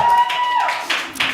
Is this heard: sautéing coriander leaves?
no